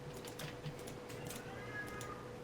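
A hungry male cat named Mittens meows faintly in the background of a Minecraft stream, a few soft calls rising over steady low room noise.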